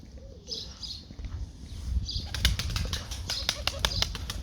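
Kerkük pigeons flapping their wings in a loft, a burst of close wing claps and fluttering that grows busier halfway through, with soft cooing and chirps underneath.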